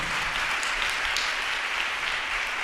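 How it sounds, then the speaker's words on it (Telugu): A congregation at a Telugu church sermon claps loudly and continuously, a dense, steady burst of applause filling the room. "నేను గట్టిగా చప్పట్లు కొడతాను, కోటాలు గట్టిగా"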